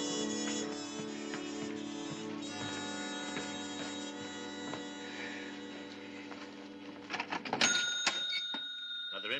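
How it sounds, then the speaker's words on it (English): Cash register in an 1881 Old West setting opening with a bright bell ring and clattering drawer near the end, following a long stretch of sustained ringing tones, loud and close with no talk over it. "Another empty cash register."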